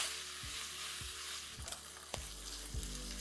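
Thick onion wedges frying in a pan for a soybean curry, a steady close sizzle with a few stirring knocks and scrapes, faint overall and without voices.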